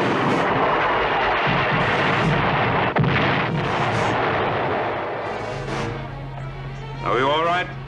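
Missiles detonating one after another in a chain reaction high above a planet in the 1978 Battlestar Galactica, heard as a dense, continuous roar of rumbling blasts that is loud throughout, with a rising whine near the end.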